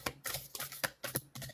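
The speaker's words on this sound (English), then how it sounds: "I am shuffling from a different deck" A deck of cards being shuffled by hand, with rapid bursts of crisp riffling and flicking in several quick clusters, close and fairly faint.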